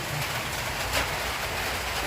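Steady rainfall on a wet day around sheltering cats, a dense, unbroken wash of drops with one brief swell near the middle and no talking.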